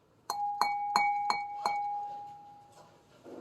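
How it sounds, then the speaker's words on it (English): Five evenly spaced taps on a glass shade, each giving a clear ringing tone that lingers and slowly fades after the last strike. "This one is off and therefore the glass is cold, and take note of the tone."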